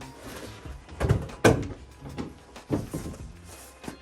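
A crushed door from a Volkswagen MK6 Golf being handled during repair work: a few close metallic knocks and clunks, spaced irregularly, with faint background noise between them.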